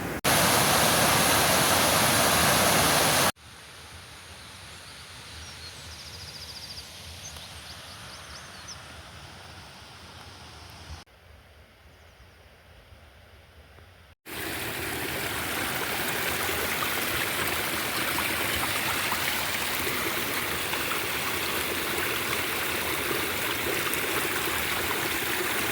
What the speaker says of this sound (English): Very tempted to get in this body of water below me, this lovely little river.